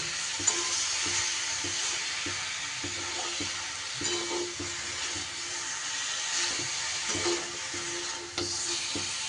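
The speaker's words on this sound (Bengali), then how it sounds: "আস্তে আস্তে নাড়িয়ে চাড়িয়ে এইভাবে চিনিটাকে গলতে দিতে হবে।" Sugar melting toward caramel in a pan for mango pickle, stirred slowly with a utensil that scrapes and taps at a steady, moderate level over a soft sizzle, with no one talking.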